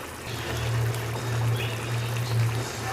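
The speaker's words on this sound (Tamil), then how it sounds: "ஈரல் கொதிச்சிட்ருக்கு, சுவையான ஈரல்" Chicken liver gravy simmers in a pot with a soft, steady bubbling that continues throughout, quiet and close.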